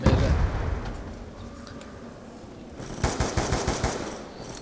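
Rapid SMR rifle bursts in Black Ops 2 Zombies rattle loudly in quick repeated volleys after a quieter start with low rumble and distant game ambience.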